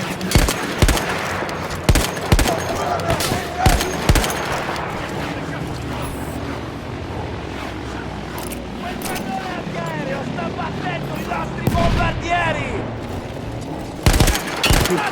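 Machine gun fire in the video game Battlefield 1 from a captured emplacement gun, scattered loud close bursts and single shots over a noisy battlefield rumble with vehicles and distant gunfire, with voices shouting in the background.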